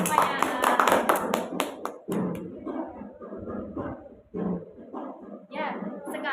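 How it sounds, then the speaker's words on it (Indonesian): A classroom of students claps together during a micro-teaching lesson, with a burst of quick claps at first, then scattered taps and voices talking over a quieter room. "tepuk tangan untuk kita semuanya"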